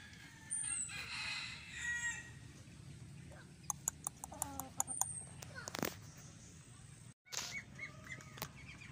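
Hens of a warrior-type brood flock cluck and call close by, with a rooster crowing briefly among them and a steady outdoor farm background.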